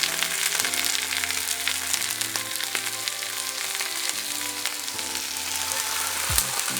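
Steady, dense sizzling of food frying in a little oil in a skillet, close and continuous, with a brief clank of a utensil near the end.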